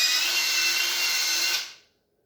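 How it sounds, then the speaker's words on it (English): A power drill spinning a rusty socket wrapped in an oiled rag whirs at a steady high pitch for about a second and a half, then spins down and stops, close and alone. "Start spinning the drill up."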